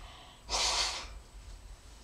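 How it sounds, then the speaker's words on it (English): A single forceful nose blow, a broad breathy burst lasting about half a second, fairly close, then quiet room hum. "Getting really tired of blowing my nose."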